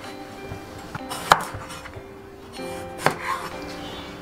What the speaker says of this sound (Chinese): 再把茄子切成大概是5公分的长段